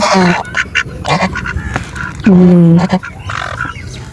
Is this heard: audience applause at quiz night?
no